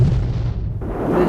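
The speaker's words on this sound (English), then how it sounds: "the communists advanced to within a mile of Yerevan and began bombarding the city" Artillery shelling of the city of Yerevan by advancing communist forces, a dull heavy boom with a rumbling low-end roll, continuous and somewhat distant.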